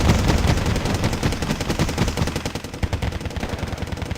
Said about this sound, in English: But I did move up my BTR 60s for suppressive fire, and they did work for me.